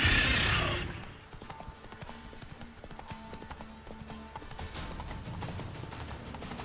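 Rhythmic hoofbeats of a galloping horse in The Witcher 3 video game, with game-like effects and a short burst of noise at the start, moderately loud and continuous.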